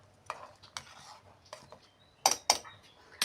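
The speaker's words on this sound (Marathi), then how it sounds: "आपण वाटून घेतलेला हा कांदा त्यामध्ये टाकायचा आणि मिश्रण असं 1 वेळा व्यवस्थित हलवून घ्यायचं" A jaggery, salt and ground onion mixture being stirred in a pan, with soft scraping strokes and a few sharper clinks of a utensil against the pan near the end, close and fairly quiet.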